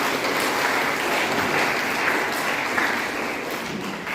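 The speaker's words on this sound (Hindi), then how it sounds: "सब ताली मारिएगा जोर से" A crowd gathered for a church community foundation day celebration claps loudly and continuously, a broad steady roar of applause that holds for several seconds.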